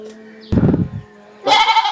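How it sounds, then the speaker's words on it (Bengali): A Totapuri goat, a young doe that has already kidded once, bleats twice, a short low call followed by a louder, higher bleat, close by with quiet between. "এটা বাঘাতোতা একটা ছাগল"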